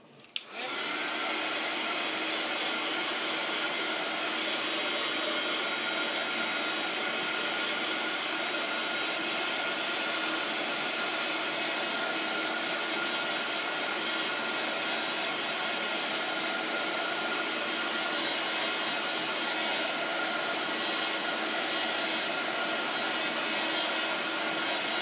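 A hair dryer blows steadily and loudly for the whole stretch, drying a small craft project in a continuous broadband whoosh with no pauses and no talking.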